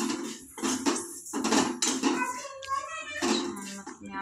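Vermicelli being roasted in a pan at home for sweet kheer, with clinks and scraping of utensil against the pan, overlapping nearby talk.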